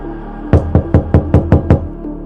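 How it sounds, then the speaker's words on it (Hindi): Seven sharp knocks on a door ring out in an even, quick rhythm, loud and close, over a faint steady hum, with a quiet pause after the last knock. "इतने में दरवाजे पर फिर दस्तक हुई।"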